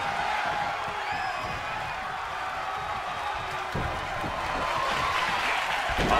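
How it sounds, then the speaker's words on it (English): Arena crowd in the WWE 2K22 wrestling game roaring and cheering steadily throughout, a dense continuous wall of applause and whoops with a few louder swells near the end. "The roar of this crowd has been building, and they are at a fever pitch right now."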